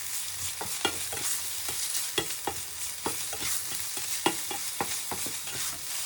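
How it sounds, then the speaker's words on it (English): Ham pancetta sizzling in sunflower oil in a frying pan, a steady crackling fry broken by repeated sharp scraping stirs, close up with no voices. "Heat another tablespoon of sunflower oil in the frying pan and add 50 to 100 grams of ham pancetta. Pan fry for 2 minutes."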